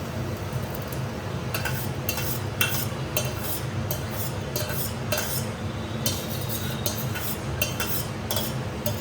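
Onions cooking in a pan, stirred with a utensil that scrapes and clinks against the metal in repeated strokes over a low steady sizzle, close-up with no voices.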